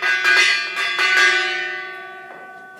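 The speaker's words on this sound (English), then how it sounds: "do not call until after we gong the gong" A gong is struck several times in quick succession to open a quiz question on a call-in show, each ring sustaining a bright metallic tone that fades slowly.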